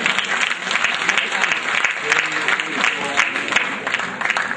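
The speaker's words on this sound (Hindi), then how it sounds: "और जोरदार तालियां सुधीर भाई के।" An indoor audience gives loud, sustained applause at a gathering, with continuous clapping and murmuring voices throughout.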